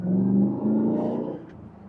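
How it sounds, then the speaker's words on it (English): A 1966 Pontiac GTO convertible with a Tri-Power 389 V8 and four-speed accelerating, a deep, loud, close engine roar that holds steady and then eases off toward the end. "Tri-power, 389. Listen to all those carburetors."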